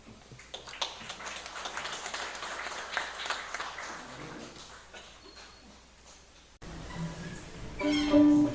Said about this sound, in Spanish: Recibamos con un fuerte aplauso a nuestro músico Johan Flores.